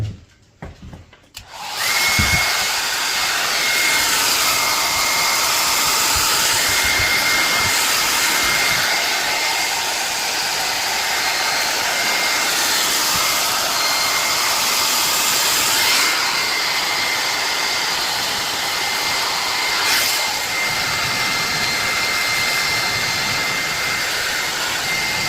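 A heat gun blows continuously on a decal for a 2014 SSR SR70c pit bike, producing a loud steady hot-air roar that starts after a brief moment of quiet and holds nearly unchanged throughout.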